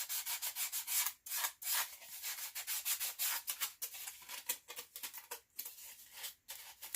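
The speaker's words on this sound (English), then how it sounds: "you can take some fine grit sandpaper. This is 320 grit, and you can smooth down these edges." Edges of a Dollar Tree craft piece are sanded by hand with 320 grit sandpaper, quick close scratchy strokes in an uneven rhythm with a few short gaps.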